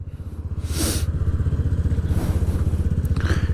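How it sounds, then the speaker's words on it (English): A motorcycle engine idles with a close, pulsing rumble, then rises in brief revs as the rider downshifts, with some mechanical clatter. "rev, downshift, rev, downshift, downshift."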